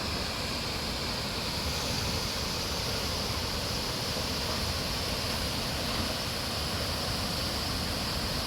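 Steady, dense roar of Dumliing Falls crashing down, a continuous broadband rush of falling and churning water heard close, with no voices over it.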